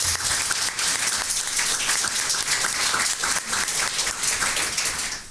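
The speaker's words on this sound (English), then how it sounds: "A round of applause for our guest this morning, Kathy Cummings." Loud, sustained applause from an audience, many hands clapping in a dense, continuous wash before it tapers slightly at the end.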